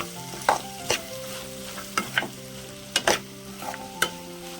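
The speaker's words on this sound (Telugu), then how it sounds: "అక్కడ అసలు మొత్తం కలుపుకోవాలండి." Chana dal and tomato curry being stirred in a pan, a sequence of distinct scraping strokes at an irregular rhythm, roughly eight close, clear scrapes over a soft steady sizzle with no voices.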